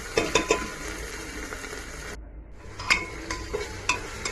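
Garlic, grated coconut and an onion-tomato paste are stirred and sautéed in a pan over a mustard seed and cumin tempering for rajma. Close scraping stirs and sizzling run throughout, with one brief drop to near silence midway.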